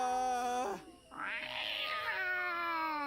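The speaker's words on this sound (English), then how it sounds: "It's a great cat noise." A cat noise in the Jenny LeClue video game: a drawn-out, wavering meow that breaks off, then swells into a rising caterwaul before settling into a long held yowl, clear and alone.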